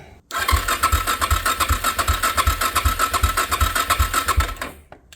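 Rebuilt Suzuki DR-Z motorcycle engine cranking over with the spark plug cap disconnected, a steady rapid pulsing chug at close range that runs for about four seconds, then stops.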